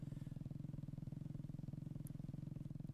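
A motorcycle engine in a mobile battle royale video game runs with a steady, throbbing, close-up rumble and an even pulsing rhythm for the whole stretch, with no one speaking.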